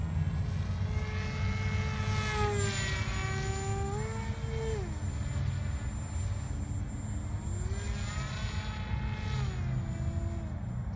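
A Kopaqi 950mm FPV delta wing RC plane flies overhead with a steady propeller whine that rises and falls in pitch as it maneuvers. A constant wind rush sits beneath the motor and no one talks.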